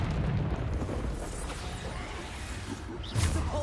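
Bombarda spell blasts in Hogwarts Legacy come as a steady rumbling roar, with whooshing swipes and a fresh heavy boom near the end, moderately loud and without talk.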